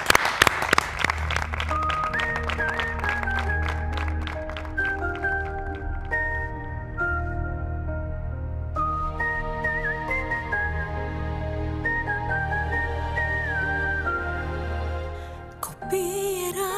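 Audience at a holiday stage concert claps and whistles for a singer, with a burst of clapping loudest at the start that fades as sustained musical tones take over.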